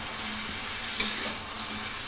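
Cauliflower, pumpkin, carrot and lentil dumplings sizzling in a pan as a mixed vegetable curry fries, with a steady close crackle and a couple of sharp spoon scrapes against the pan, no talking.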